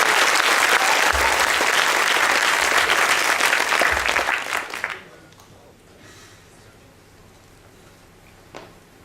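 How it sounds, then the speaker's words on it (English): At a Perl conference's lightning talks in Kiev, the audience gives loud, dense applause for the speakers, which tapers off about halfway through and leaves near silence with a faint voice and a brief knock. "give them a big hand of applause"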